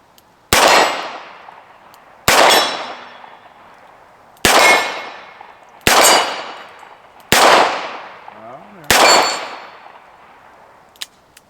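Six loud Smith & Wesson Model 10 .38 Special revolver shots fired at an even, unhurried pace, each a sharp crack with a lingering ring from the steel target.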